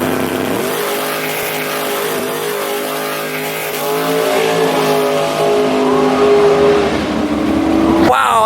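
A Nissan GT-R engine revs loudly and close by, its rising and falling drone sustained throughout, with a sharp burst near the end.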